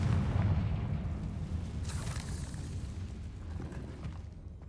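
A Confringo spell blasts in Hogwarts Legacy, a loud, sustained rumbling explosion with heavy low-end roar that decays slowly over several seconds, no voices over it.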